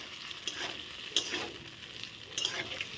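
Fried potato pieces with green chilli and cumin are stirred in a pan with a small spatula: a soft, quiet sizzle broken by a few scraping clinks of the utensil.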